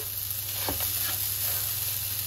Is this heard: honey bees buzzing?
no